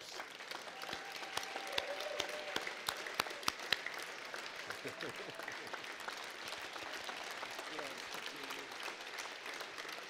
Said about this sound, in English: give him another rousing round of applause that he so well deserves